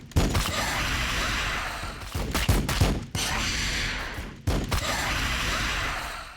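Blood Angels units fire on Tyranid enemies in a Warhammer 40,000 video game, a sustained roaring volley broken by a few sharp cracks and brief gaps, loud and close throughout.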